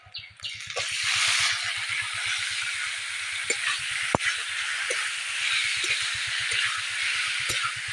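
Marinated chicken drops into lightly browned onions in hot white oil, setting off a loud, sustained sizzle and hiss with a few clinks and stirring sounds. A rhythmic low thumping runs underneath, and no one speaks.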